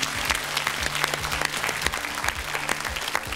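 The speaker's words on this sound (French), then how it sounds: "On applaudit Florent." A TV game show studio audience claps loudly and steadily, a full crowd of hands over a faint low musical bed, lasting the whole moment without talk.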